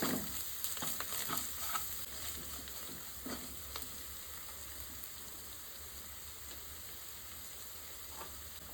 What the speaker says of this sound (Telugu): ఇదంతా మంచిగా ఫ్రై చేసుకోవాలి. పచ్చివాసన పోయేంత వరకు ఫ్రై చేసుకోవాలి.